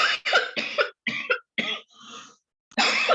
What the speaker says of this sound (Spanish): vengo saliendo de una tos